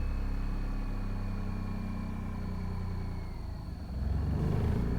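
A Mazda RX-8 rotary engine runs steadily at lowered RPM, a continuous close, loud drone with a slight surge in the last second.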